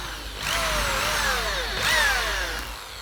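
A power drill bores into wood in two drawn-out bursts, its whining motor pitch sliding up and down as the bit bites, close and fairly loud with no talk.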